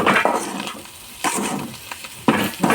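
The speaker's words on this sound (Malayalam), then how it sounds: "ഒന്ന് ഇളക്കി കൊടുക്കാം എല്ലാ സൈഡും" Clam meat frying in a pan and being stirred, with scraping strokes and bursts of sizzle coming in short irregular pulses at close range.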